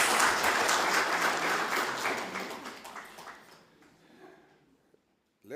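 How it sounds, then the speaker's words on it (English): A round of applause for a Deputy Mayor at a regional business engagement event, a full crowd clapping that gradually thins and fades out over about four seconds into near silence, followed by a faint knock. "giving her another round of applause"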